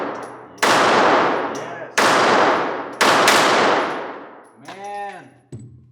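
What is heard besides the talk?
gunshots from a Ruger Security 380 pistol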